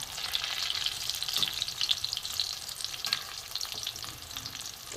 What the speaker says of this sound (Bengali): এইগুলো ভাজা হচ্ছে দ্বিতীয়বার